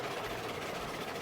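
A locomotive engine in the video game Railroads Online runs with a steady, broadband rumble and hiss, loud and continuous without a break, and no voices over it.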